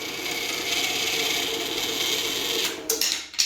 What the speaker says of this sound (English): This is the maiden cut on the new bandsaw.